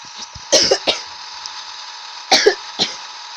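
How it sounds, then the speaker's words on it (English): Two bursts of harsh coughing, a couple of coughs each, close to the microphone over a steady Farming Simulator 16 engine hum. "Sorry about that coughing"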